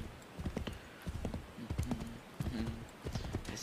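Rhythmic clip-clop of a galloping horse being ridden in Assassin's Creed 3, a quick run of hoofbeats with a brief whinny, moderately quiet, with some talk.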